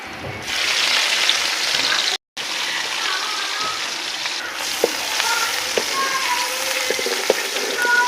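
A dal tadka of onion, garlic and ginger sizzling in a small pan, a loud continuous frying hiss with scattered crackles and pops and a brief cut of silence partway through.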